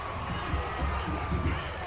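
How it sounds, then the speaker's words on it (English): A steady, dense crowd roar fills the stands at the JSU vs SU Boombox Classic, continuous and loud with no single voice standing out. "The crowd sounds lit."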